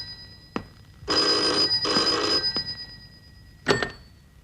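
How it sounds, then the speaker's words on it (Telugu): A telephone bell rings in a home, one long double burst near the start and a shorter ring near the end, clear and close with no talk over it. "ఏదో అర్జెంట్ ఫోన్ కాల్ ఉంది,"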